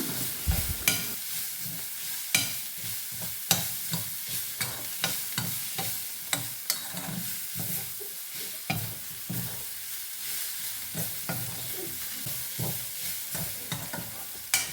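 A spoon scrapes rhythmically around a pan of tomato fish curry with chilli powder, regular close stirring strokes over a low sizzle, steady and without speech.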